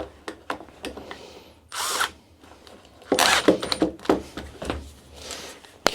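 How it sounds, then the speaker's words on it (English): A small 12-volt cordless drill whirs in several short, close bursts with brief pauses and clicks between them, no talking. "I have my little 12-volt drill that I'm going to get this attached to."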